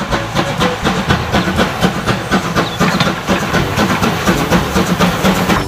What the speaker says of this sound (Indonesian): Wah, ini kereta api Thomas.